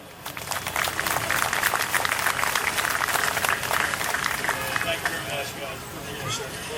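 A large audience at Fort Rucker's 2015 Freedom Fest applauds its sponsors, with steady, dense clapping and some cheering that holds for several seconds before easing slightly near the end.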